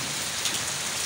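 Heavy rain after months of drought pours down in a dense, steady hiss of drops drumming on surfaces, loud and close throughout.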